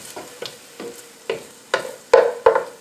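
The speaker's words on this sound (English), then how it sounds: "Now that the veg is sauteing and softened" Vegetables saute in a pan while a utensil stirs and scrapes, about seven distinct strokes over a quiet sizzle that grow louder and sharper toward the end. No one speaks.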